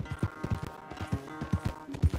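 Horse hooves clip-clop in a corral in the video game Red Dead Redemption 2, a steady rhythmic series of soft thuds at a walking pace, moderately near and fairly quiet.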